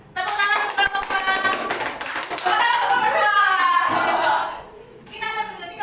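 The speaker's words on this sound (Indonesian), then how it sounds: "Tepuk tangan untuk kelompok" Children in a classroom clap for a group, with uneven, busy slapping and tapping. Children chatter and a voice rises over the claps, and the clapping thins out near the end.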